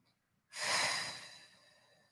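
Someone takes a single deep breath during a strength and mobility workout, a close, airy exhale that swells quickly and then fades over about a second and a half after a brief silence.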